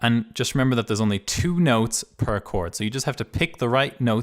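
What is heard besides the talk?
No distinct noise like a dog, phone or traffic.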